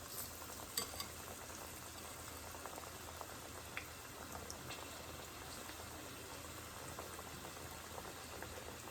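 Thin potato slices seasoned with salt, garlic and ginger paste fry for Kenyan Maru Bhajiya, a faint, even bubbling hiss of oil that runs steadily with no talk.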